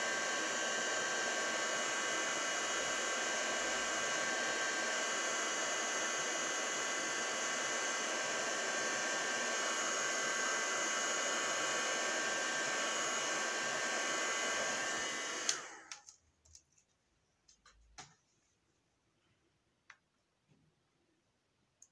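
A heat tool blows on a craft piece resting on a heat mat, a loud steady whooshing roar for about fifteen seconds that cuts off abruptly, followed by a few faint clicks and handling taps.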